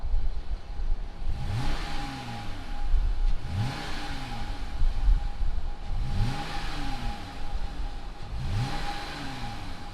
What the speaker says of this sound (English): fire it up, and see what does this Jeep Gladiator Overland sound like.